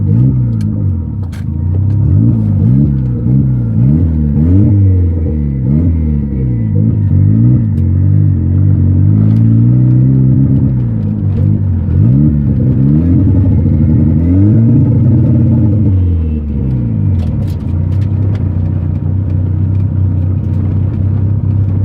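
A modified Honda Civic's engine revs repeatedly while driving, loud up-and-down sweeps of throttle in close succession under a steady road rumble, with no talking.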